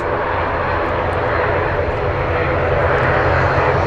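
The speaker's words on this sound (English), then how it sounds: "You can hear the planes taking off and landing." A loud, steady jet engine roar fills the whole stretch, a big airplane close by with a broad, rushing drone that holds level throughout.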